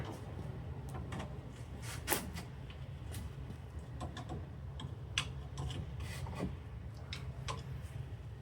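Pick prying the mesh grille off the glued-in foam of an RCF SUB 9006-AS subwoofer, faint scattered scratches, ticks and rubbing clicks at irregular intervals over low room noise.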